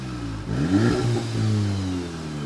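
A VW Golf R or GTI fitted with an Akrapovic exhaust blips its engine up, then holds a loud, throaty rev that slowly settles, close by and with no one talking.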